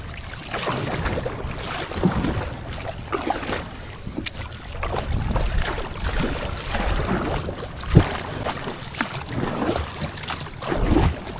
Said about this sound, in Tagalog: Sagwan lang tayo.